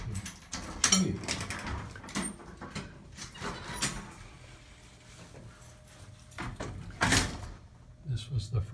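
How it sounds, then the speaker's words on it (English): A key working in a lock and a door being opened, with scattered metallic clicks, rattles and a few heavier clunks spread out between stretches of a person talking nearby. "if I can get my key to open the door"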